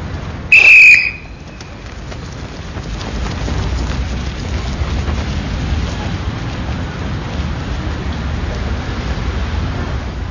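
A single sharp whistle blast signals a stage of a French Foreign Legion running fitness test, loud and brief near the start, followed by steady rain-like outdoor noise.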